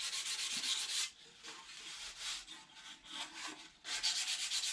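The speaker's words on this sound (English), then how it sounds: "I'm sanding this, just the edges, and where it's fuzzy with 320." A used scrap of 320 grit sandpaper is rubbed along the edges of a model part in repeated close, scratchy strokes: a long pass, a few shorter uneven ones, then another steady pass, with no talking.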